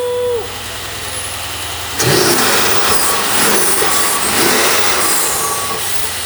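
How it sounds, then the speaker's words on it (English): A turbocharged car fitted with aftermarket intakes and exhaust idles briefly, then its engine revs up sharply and holds a loud, raspy, sustained roar at close range, with no talking. "Intakes are on, the exhaust is done."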